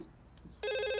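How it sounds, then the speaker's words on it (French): A landline house telephone bursts into a loud, continuous electronic ring after a brief quiet moment indoors. "Allez, arrête ce téléphone là."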